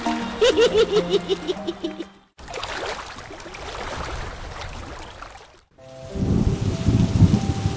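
Light drizzle in a cartoon scene, heard as a soft, steady hiss through the middle of the clip, with laughing voices before it and music after it.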